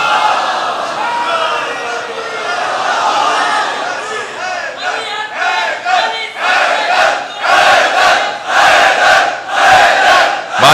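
A religious gathering's crowd answers together in loud chanted salawat, voices swelling in rhythmic bursts that grow stronger toward the end.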